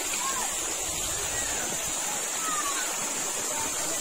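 Running water spills over a very rocky stream bed on a walk near Tanay, Rizal, a steady broadband rush that stays level throughout, with faint bird calls above it.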